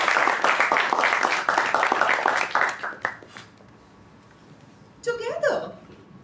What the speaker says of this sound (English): Let's give a huge round of applause for our second speaker.